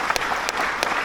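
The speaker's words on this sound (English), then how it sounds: "let's give her a round of applause" Audience applause at the Adelaide Jazz Festival 2024, a steady patter of clapping from a crowd with a few sharper claps standing out, lasting about a second with no voices over it.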